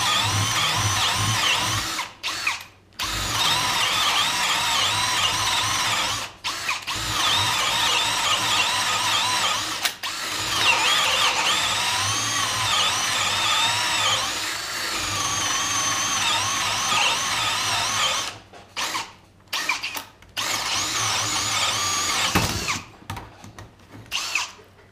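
A power drill spins a hole saw on a Spyder carbide arbor, producing a loud, sustained whining drone that cuts out briefly a few times before resuming, with no speech.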